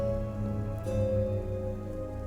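Steady rain falls in the video game Sovereign Syndicate, a continuous even wash that carries on over a low, sustained tonal drone without a break.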